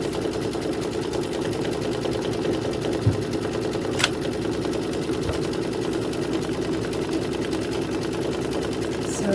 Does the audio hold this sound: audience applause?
no